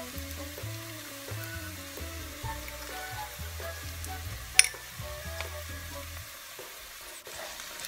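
Sugar and onion frying in a pan for chicken adobo, a soft continuous sizzle with gentle stirring and a single brief clink, heard close and fairly quiet.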